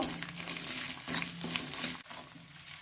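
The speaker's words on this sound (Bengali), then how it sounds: "এটাকে আমি ভালো করে কষিয়ে নেব লবণ দিয়ে দিলাম পরিমাণ মতন হলুদ দিয়ে দেব এটাকে নেড়ে নেব" A spiced curry base with salt, turmeric and cumin powder fries and is stirred in a pan, a continuous close sizzle broken by scraping spoon strokes and a brief dip near the end.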